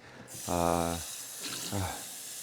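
Tap water runs into a dog's bowl in a big, echoey house, a short filling burst followed by a second briefer run, with some quiet background hiss.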